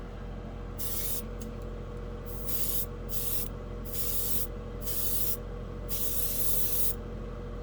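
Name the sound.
airbrush spraying enamel paint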